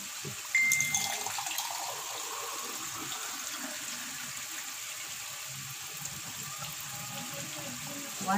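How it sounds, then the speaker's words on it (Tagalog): Water pours steadily into a cooking pot of pork pochero, a close, continuous splashing gush that starts sharply and then runs evenly at moderate volume, with faint voice in the background. "Lagyan na po natin ng water."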